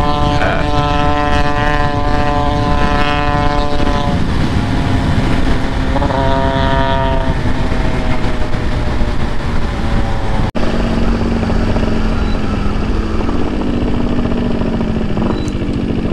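A KTM Duke 200 motorcycle is ridden at speed, its engine a loud sustained whine rising and falling through gear changes over heavy wind rush, with no talking.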